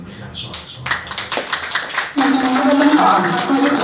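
A church congregation at an evening healing service cheers and claps, scattered claps and shouts under a speaker's voice, building into a loud, sustained roar of cheering in the second half.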